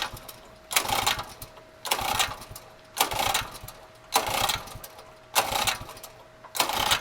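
Small gas engine on a hydraulic pump being cranked repeatedly, six evenly spaced bursts of pull-start cranking about a second apart, close and moderately loud, without catching into a steady run.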